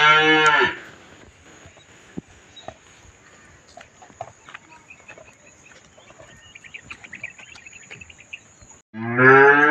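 Buffalo and cattle moo loudly at a farm shed, with a long low call at the start and another at the end, separated by quieter rustling, hoof shuffles and faint background noise.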